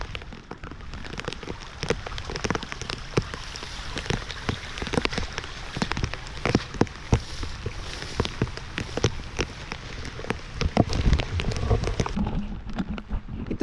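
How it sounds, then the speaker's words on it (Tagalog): Rain falls steadily outdoors, pattering densely on surfaces nearby with scattered louder drops and taps in an irregular rhythm. "maulan po ngayon."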